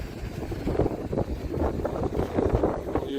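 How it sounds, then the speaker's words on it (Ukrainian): Gusty wind buffeting close up, uneven rumbling bursts rising and falling without pause. "о, тут вітер. Тут вітер."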